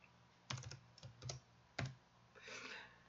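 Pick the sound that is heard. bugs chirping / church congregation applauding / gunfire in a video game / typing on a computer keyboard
typing on a computer keyboard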